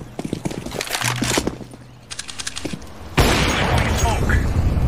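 Voices talk over clicks and shots in Counter-Strike before a smoke grenade is thrown, then a loud, sustained hiss of smoke takes over.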